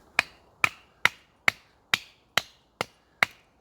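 A Mora Garberg carbon steel knife bites into seasoned hard timber in eight evenly spaced, sharp chopping strikes, each a crisp, close woody crack with a short tail and quiet between blows.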